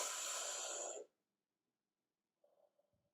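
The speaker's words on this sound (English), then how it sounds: "I'm going to take in a deep breath" A deep breath drawn in through the nose, a loud broadband rush lasting about a second, followed by silence and a faint soft exhale or murmur near the end.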